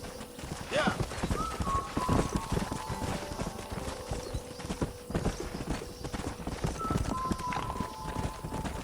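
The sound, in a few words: horses galloping, hooves clip-clopping, in video game Red Dead Redemption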